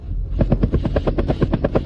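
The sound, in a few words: helicopter flying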